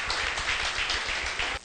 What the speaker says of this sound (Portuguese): Vamos louvar o Senhor com as nossas palmas